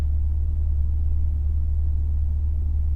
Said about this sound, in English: Sport mode, you can hear the exhaust get slightly louder.